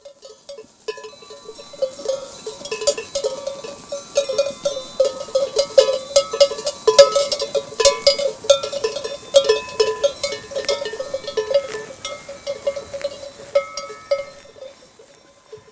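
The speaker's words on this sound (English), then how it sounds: "listening to the bells ringing in this flock" Many small sheep bells clank and jingle continuously in an uneven, overlapping rhythm as a flock grazes nearby on a pasture, with no voices.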